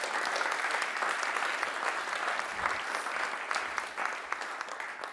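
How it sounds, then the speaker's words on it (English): Sustained audience applause fills a church Mother's Day service hall, dense steady clapping from a crowd with no break across the whole stretch. "give Heidi a huge clap?"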